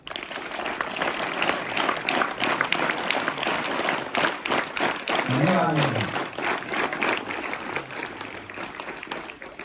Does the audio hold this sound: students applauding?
yes